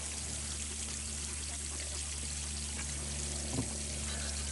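Water runs out of a hose or pipe onto the ground for farm animals, a steady, even rushing pour throughout with a brief splash near the end.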